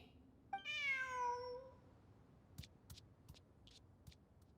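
A cat in Genshin Impact gives one clear, drawn-out meow close up, followed by a few soft clicking game sounds in an otherwise quiet scene.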